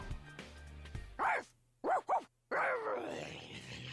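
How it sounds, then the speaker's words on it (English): A character in a video game barks like a dog: a few yelping barks and a whimpering, growling howl, heard close and clear after some quieter background sound. "You deadass barked and wolfed and growled at me."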